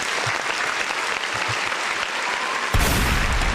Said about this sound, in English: I gotta give him a round of applause for that one.